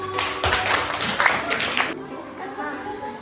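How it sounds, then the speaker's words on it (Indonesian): Classmates in a fifth-grade elementary school classroom clap for the first group, a dense burst of hand claps up close for about two seconds before fading to quiet room noise, with some voices mixed in. "tepuk tangan untuk kelompok 1"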